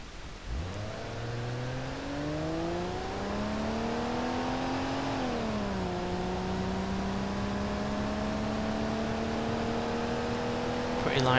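Engine of the Ibushu Hopper, a lightweight off-road vehicle in BeamNG.drive, starting up and revving. The tone climbs steadily as the vehicle accelerates, dips briefly, then holds a sustained drone, loud and close throughout.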